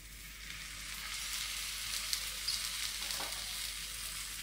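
Thalipeeth, a Maharashtrian flatbread, sizzles as it roasts on a hot pan, a soft continuous frying crackle with faint pops, quiet and steady with no voices.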